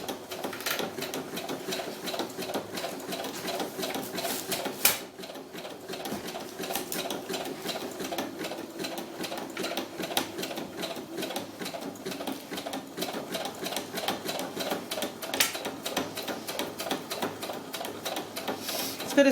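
A sewing machine stitches a buttonhole in sheepskin fabric, running as a fast, steady mechanical rattle close by for the full length, with a brief pause partway through.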